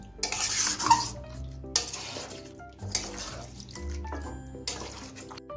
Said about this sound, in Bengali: মশলার সাথে মাংসটা ভালো করে আমি একটু মিশিয়ে ভালো করে কষিয়ে নিচ্ছি।